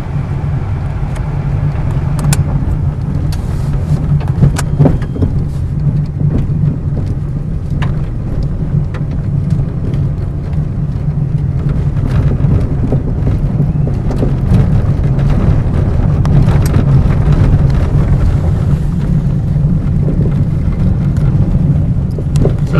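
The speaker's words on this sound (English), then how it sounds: "There you have a test drive in an electric vehicle that shouldn't sound like you want yours to sound like. Nice and quiet." An electric vehicle from Ampmobiles on a test drive, with a steady low rumble of road and tire noise, no engine note, and occasional faint knocks, continuous for over twenty seconds.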